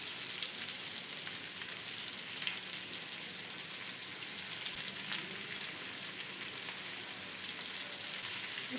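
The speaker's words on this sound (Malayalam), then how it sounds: "ഇനി നമുക്ക് ഈ ഓയിലിലോട്ട് 2 സവാള സ്ലൈസ് ചെയ്ത് വെച്ചിട്ട് ചേർത്ത് കൊടുക്കാം." Sliced onions frying in hot oil left over from frying chicken, a steady soft sizzle that stays even from start to finish, with no talking.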